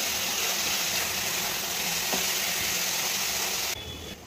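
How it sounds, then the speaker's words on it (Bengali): Jhinge and potatoes sizzling in a pan after the lid comes off, a steady bright frying hiss with faint stirring scrapes throughout, close and continuous. "এবার ঢাকনাটা খুলে একটু নাড়িয়ে"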